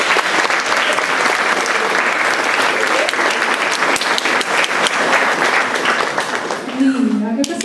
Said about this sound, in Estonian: Suur aplaus teile.